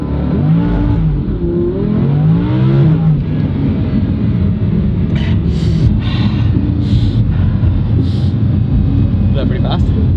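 A Lamborghini Huracan accelerating hard, its engine roaring loud and close in a steady broadband rush throughout, with someone talking over the start.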